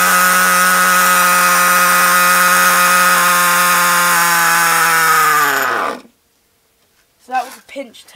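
A nitro RC car engine screams loudly at a steady high pitch during a fuel line pinch test, then bogs down and dies abruptly around six seconds, followed by someone speaking.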